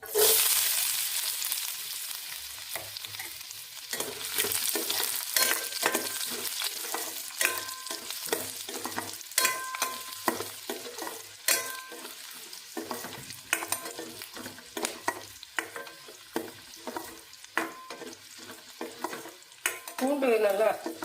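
Garlic sautéing in hot oil with mustard seeds and cumin for a bitter gourd kulambu, with a continuous crackling sizzle broken by frequent close scraping stirs of a spoon against the pan; no talking.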